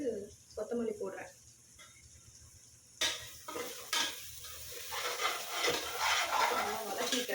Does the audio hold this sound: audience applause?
no